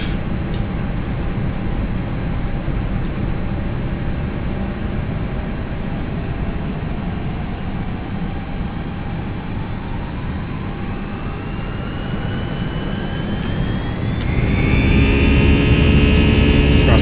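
Jet engines of an FSLabs A320 in the Prepar3D flight simulator spool up to takeoff thrust, a steady loud roar with rising whine tones that climbs and swells louder near the end, with no voices over it.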